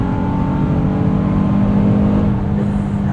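A 2024 Honda Passport Trailsport engine pulls steadily under acceleration as heard from the cabin, a loud, continuous drone with a faint rising tone and no talking.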